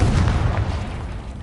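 In Hogwarts Legacy, the Confringo blasting spell strikes with a loud, deep boom, a punchy low thud that rolls away quickly in a short decaying rumble.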